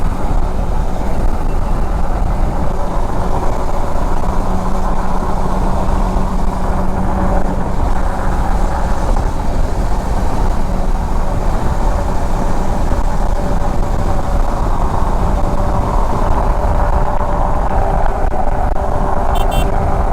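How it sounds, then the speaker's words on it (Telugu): A KTM Adventure 250 motorbike rides along a road with a steady, loud rush of wheel and road noise, a dense unbroken roar lasting the whole stretch with no talking. "వీల్ సౌండ్ చూడండి ఒకసారి"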